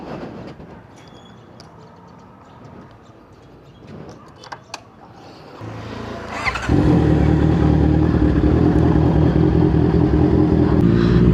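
A Honda CB650 motorcycle idles quietly, then its engine starts and settles into a loud, steady running rumble close by.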